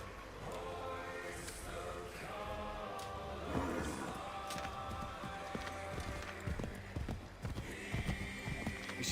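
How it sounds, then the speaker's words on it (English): Horse hooves clip-clop steadily in Assassin's Creed 3 as Connor rides, mixed with a horse's whinny, game music and ambient effects, the hoofbeats fairly close and continuous. "Get back on the horse, Connor."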